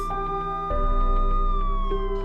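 Emergency sirens sound along a street in a Belize neighborhood: a sustained steady wailing tone that holds, then slowly glides downward, fairly loud and continuous with no voices over it.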